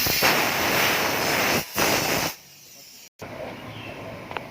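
Water sprayed onto a Mitsubishi Mirage II engine bay, a loud hissing jet that runs in bursts, cuts off briefly, then drops to a quieter spray with faint background noise.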